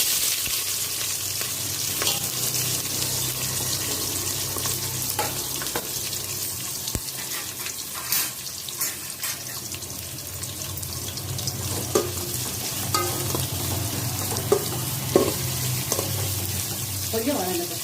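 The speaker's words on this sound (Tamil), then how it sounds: "அதில் வந்து சின்ன வெங்காயம் போட்டுக்குவோம்." Shallots sizzle in hot oil with cinnamon and fennel for a Dindigul-style chicken biryani, a steady close frying hiss with occasional stirring clinks and light kitchen noise throughout.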